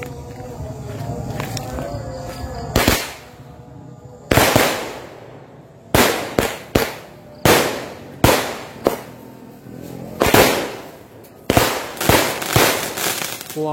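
Firecrackers go off on the night of Takbiran in a series of sharp, loud bangs spaced a second or so apart, near and echoing, with faint voices between blasts.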